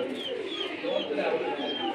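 Pigeons, a Saharanpuri male and a Budapest cross female, give soft, close, repeated cooing calls over about two seconds, with no talk over them.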